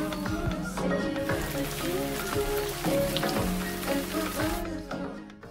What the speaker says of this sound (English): After 1 million years of a continuous downpour of rain, oceans formed, and so did rivers and lakes.